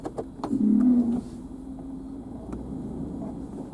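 A Ram Power Wagon truck backs up with a low engine hum and a brief whining tone near the start, then idles quietly with faint clicks and no talk.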